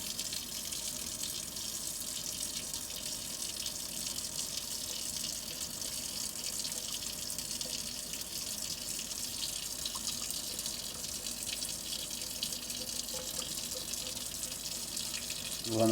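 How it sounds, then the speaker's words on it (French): Water from a running kitchen tap pours steadily over rice held in a colander as the grains are rinsed, a constant hissing splash that stays even throughout, with a brief clatter near the end. "L'étape suivante sera de mettre le riz dans une passoire afin de le rincer et qu'il soit encore moins collant."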